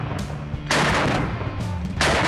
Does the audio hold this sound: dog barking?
no